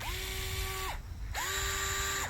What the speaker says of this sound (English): This is a gyroscopic automatic screwdriver.